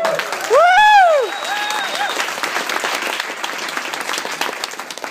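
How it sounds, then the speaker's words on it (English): An audience at an international night event applauds a counselor, with dense, steady clapping filling the room after a loud vocal whoop, continuing at a fairly even level to the end. "Just give her a round of applause."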